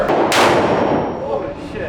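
A gunshot at an indoor shooting range in Vancouver: one loud, close blast with a booming decay that fades over the following second amid room noise.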